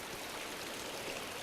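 Steady rushing water from a stream or waterfall in the Tomb Raider video game, a continuous broadband wash that stays even and fairly close for the whole stretch with no voices over it.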